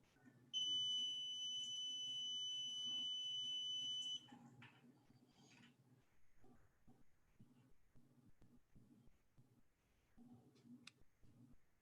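Multimeter set to continuity beeping across a pressure switch on a power-vent water heater, one steady high tone lasting about four seconds, followed by faint clicks and handling noise.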